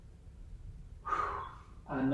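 A deep breath during a guided breathing exercise: a soft, close inhale swells and fades, then a second breath begins, over quiet background hiss.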